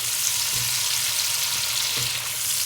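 Chopped tomatoes frying in a pan of oil for pakora kadhi, a steady close sizzle with a couple of faint stirring knocks, no voices.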